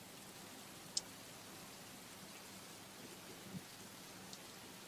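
Faint, steady rain falls in the Rising World video game as a soft, even hiss. A couple of small ticks and drips break through it.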